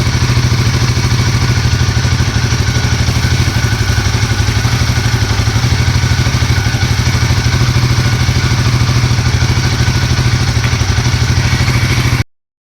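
A Royal Enfield Himalayan 450 motorcycle engine runs close and loud at a steady idle with a constant mechanical clatter, unbroken for about twelve seconds before it stops abruptly.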